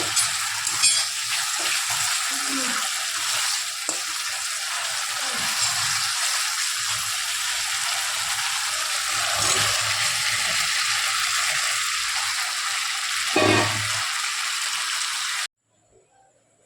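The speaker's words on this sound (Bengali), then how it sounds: "আর এখানে আরেকখানে মশলা কষা হচ্ছে।" Spices sautéing for aloo dum (Bengali potato curry) in a home kitchen, a steady broadband sizzle with occasional louder stirring scrapes, continuous and close, ending abruptly.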